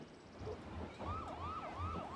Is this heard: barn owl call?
no